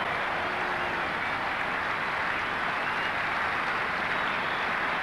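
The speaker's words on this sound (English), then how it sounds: "getting a very warm round of applause from this excellent crowd" A large crowd at a cricket match applauds warmly as a batsman reaches his fifty, steady broad clapping with a dense wash of hands that holds evenly throughout, with no talk over it.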